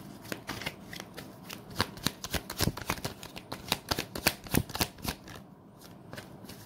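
Tarot cards being shuffled by hand, a quick run of crisp riffling snaps and flicks close to the microphone, steady and busy for several seconds with no talking.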